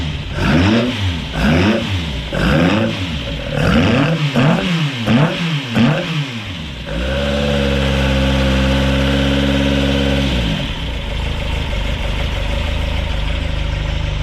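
A freshly built Ford Crossflow race engine in a TVR revs up and down in loud rhythmic bursts, then settles into a steady, throbbing idle close by.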